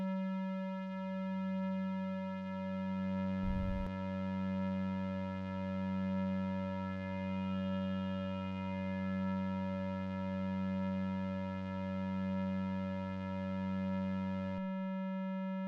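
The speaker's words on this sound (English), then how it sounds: "another square oscillator pitched an octave lower is added, summed with a little hint of the sine wave" A t-generator synth holds a steady buzzy tone made from square-wave oscillators an octave apart, blended with a little sine wave. It drones evenly for about fourteen seconds before cutting off abruptly, with one brief click partway through.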